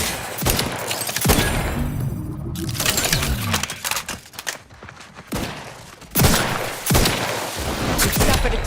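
Rapid bursts of automatic gunfire and explosive blasts erupt in a video game played on Linux, loud and dense with brief gaps between volleys.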